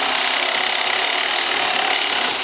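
Gears spinning inside the transmission of an electric BCS walk-behind tractor give a steady, continuous whirring and grinding hiss at constant loudness, close and without talk.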